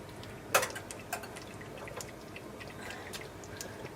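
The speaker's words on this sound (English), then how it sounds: "Gonna gently take them out of the pan and drop them down in" Meatballs slipped into a pot of simmering Sunday gravy make a few soft, wet plops. The first is clearest, followed by fainter drips over a quiet background.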